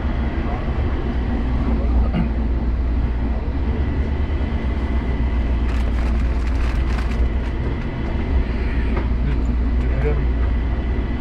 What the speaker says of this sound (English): Please hold on. This train is approaching Terminal 2.